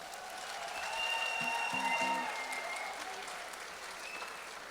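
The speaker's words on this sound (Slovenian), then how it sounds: "Mislim, da si zaslužijo malo večji aplavz." Guests at a school graduation ball applaud, a steady, moderately distant wash of clapping from a large hall, with a brief voice audible under it and faint tones lingering in the background.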